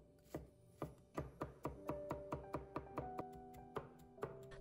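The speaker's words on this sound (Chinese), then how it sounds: "然后将它剁成蒜末，蒜末我们要剁细一点" A kitchen knife minces crushed garlic finely on a chopping board, with about eighteen quiet, evenly spaced chops that speed into a steady rhythm, heard alone.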